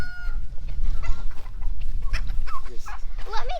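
Chickens cluck and squawk inside a coop housing an unusual exotic animal, a close, steady run of overlapping calls with rustling underneath.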